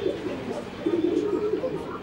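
Low, soft cooing from racing pigeons rolls on steadily and close by over a faint background hum.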